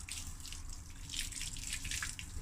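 Rinse water pouring and splashing out of a Yamaha Virago 535 motorcycle fuel tank after vinegar rust treatment, a continuous close gush with bright trickling and dripping throughout.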